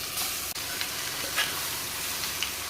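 A spice mixture hits golden fried onions in a hot pan and sizzles steadily and loudly, a dense continuous frying hiss with a few light stirring clicks.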